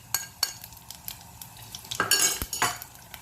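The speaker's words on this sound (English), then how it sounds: "Everything is sizzling well" Asafoetida, fenugreek seeds, nigella seeds and clove sizzling in hot oil in a pan, with sharp metal clinks and scrapes of a utensil stirring, fairly close and with no voices.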